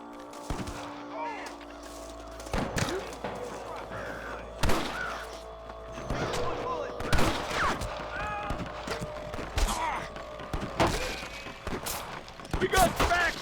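Shots crack at irregular intervals through a Red Dead Redemption gameplay scene on Switch. The bangs are moderately loud, some near and some more distant, over busy game ambience with hoofbeats and bird caws.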